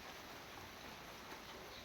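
Unseasonal rain falls outside as a faint, steady hiss of drops with no break and no voices over it.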